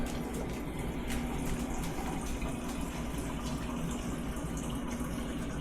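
Water flows through a newly reconnected refrigerator ice maker line with a steady, continuous rushing hiss over a low, constant hum, close and unbroken.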